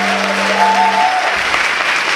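Audience applause for a band at the Toulouse Game Show Ohanami 2013 opening: a dense, steady wash of clapping across the whole stretch, loud and close, while a sustained musical tone rings underneath at first, then fades.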